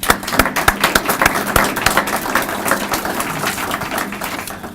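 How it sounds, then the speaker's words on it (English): Audience applause at an evening community gathering for an advisory board, a steady wash of many hands clapping at moderate volume, with dense irregular claps continuing throughout and no talk over it. "Let's give them a round of applause."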